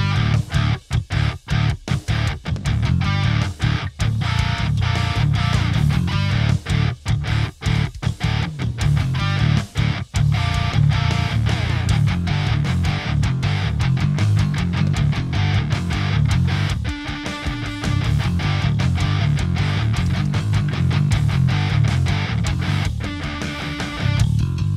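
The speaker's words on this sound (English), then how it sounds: "I've got a riff with some single note, sort of djent-y riff, then into some chunking heavy power chords," A Squier Telecaster in drop D through a Diesel VH4 amp emulation at half gain, playing a single-note djent riff that moves into chugging, palm-muted heavy power chords: loud, dense and distorted, with tight rhythmic stops and no talking.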